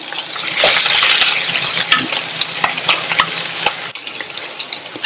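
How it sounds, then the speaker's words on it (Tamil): Onion, ginger and garlic sauté in a pan, giving a steady, close sizzle with frequent scraping stirs and light clinks of the spoon against the pan, with no voices. "இஞ்சியும் பூண்டும் வெங்காயத்தோட சேர்ந்து கொஞ்சம் நேரம் வதங்கட்டும்"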